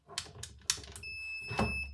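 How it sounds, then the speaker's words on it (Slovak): Confirmation beep from a Perun Hybrid V2 airsoft processor: a steady high-pitched electronic tone, moderately loud, holding for roughly a second after some clicks and handling noise, with no talking. "Perun pípne, jedenkrát dlhé pípnutie a mám to teda potvrdené"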